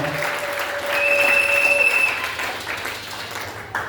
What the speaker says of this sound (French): Quelqu'un peut acclamer très fort